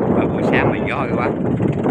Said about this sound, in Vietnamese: Sáng mình gió kìa.